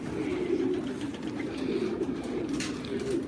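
A flock of homing pigeons coos steadily, soft low throaty warbling from many birds overlapping at moderate volume, with faint fluttering and rustling in the background.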